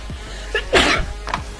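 A single loud sneeze bursts out close to the microphone during a Minecraft survival session, preceded by a brief sharp inhale and trailed by faint voice sounds.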